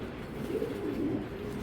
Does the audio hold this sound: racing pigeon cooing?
yes